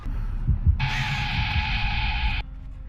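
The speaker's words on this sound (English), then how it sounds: "sometimes when she moves, you will hear this loud screeching sound." In the Dead by Daylight video game, the Pig gives a loud, steady electronic screech while moving in stealth, held for under two seconds over a low throbbing ambient hum.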